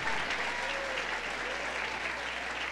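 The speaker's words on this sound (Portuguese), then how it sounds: "então você pode aplaudir" A congregation at an Easter Passover church service claps steadily in a dense, even wash of applause that holds at a constant level throughout, with a few voices mixed faintly into the noise.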